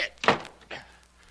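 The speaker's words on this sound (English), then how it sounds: "Don't close this door on me." A door is shut in a radio drama, giving a short thudding knock followed by a second softer bump, close and fairly loud against a quiet background.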